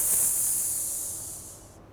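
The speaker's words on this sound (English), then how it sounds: "Just get the remaining air out with a hiss." A single forceful exhale pushes the last air from the lungs as a bright, sharp hiss during pranayama breathing, loud at first and fading smoothly before cutting off, heard alone and close.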